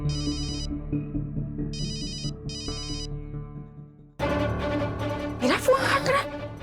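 A phone rings in repeated electronic ringtone bursts, three short pulses over quiet background music in a tense crime drama scene, before louder music and sound swells cut in.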